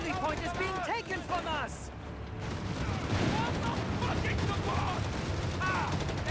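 Rifle fire crackles almost continuously from US riflemen fighting Panzer Grenadiers in the strategy game Company of Heroes 3, layered with battle effects and a commentator talking over the action.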